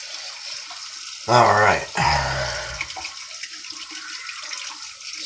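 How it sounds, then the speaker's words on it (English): A razor blade rinsed under a running hot water tap, a brief loud gush of water lasting under a second, then a softer trickle fading away; someone says a single word nearby. "I'm also going to run my blade under hot water"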